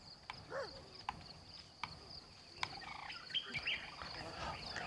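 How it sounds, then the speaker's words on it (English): Faint morning birdsong in the video game Ancestors: The Humankind Odyssey, with scattered chirps and short calls over a steady insect-like background hum, distant and quiet. "little birds in the morning"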